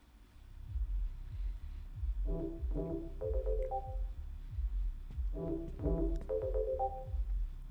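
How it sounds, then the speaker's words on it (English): A phone rings inside the video game Dead Take in two repeated bursts of warbling electronic tones, heard over a steady low background drone. "Can you answer the phone, please?"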